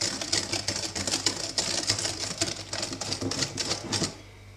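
Hand whisking of eggs and sugar in a bowl for chocolate biscuits, with no mixer used, producing fast rhythmic clattering strokes that run steadily close up for about four seconds before stopping, with no talking.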